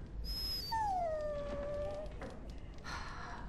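A dog in the fantasy role-playing video game Dragon Age: Origins whimpers with a few thin, high, drawn-out whines that slide downward, fairly faint over a steady game background hiss, with no talking.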